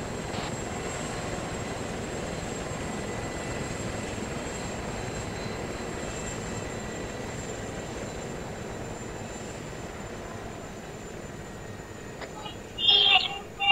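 Military helicopter lifting off for a training exercise: a steady, loud rotor and turbine roar that holds throughout, with faint voices and a brief clatter near the end.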